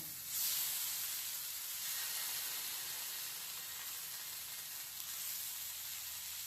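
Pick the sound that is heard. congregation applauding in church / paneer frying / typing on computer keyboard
paneer frying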